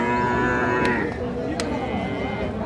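A Sahiwal-Sindhi crossbred cow with a calf at a cattle market gives a long, loud, continuous moo lasting the whole stretch, with faint market background behind it.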